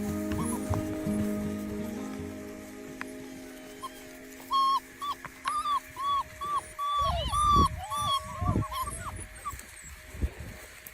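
Newborn puppies from a large litter whimper and yelp in a series of short, high, wavering cries, close and fairly loud, after a stretch of low rumbling background.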